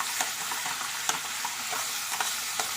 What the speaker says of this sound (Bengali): এখন দিচ্ছি এই যে আদা রসুন বাটা দিয়ে একটু ভালো করে নেড়ে নেব